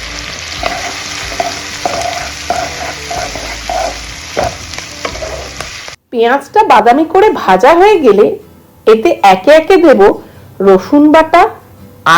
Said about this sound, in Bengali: এবার কড়াতে দেবো গরম মশলা অল্প করে গরম মশলা ফোড়ন দিলাম